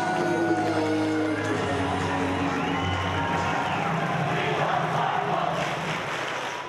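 Crowd noise at a high school cheer squad performance, a dense sustained roar of voices and cheering from a large audience, loud throughout and fading slightly at the end.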